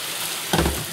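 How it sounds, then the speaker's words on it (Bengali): Potatoes sizzle and fry in a hot pan while boal fish curry is cooked, a steady close crackle with a brief louder stir-like burst midway, no voices. "আলু দিয়ে আবারও কষাবো।"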